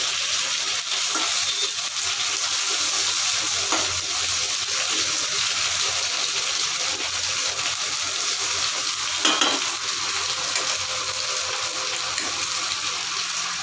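Pointed gourd slices fry in a pan for a vegetarian curry, a steady, close hiss of sizzling oil running throughout with faint stirring scrapes now and then.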